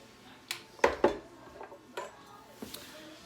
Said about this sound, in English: Let me take the lid off so you can see it.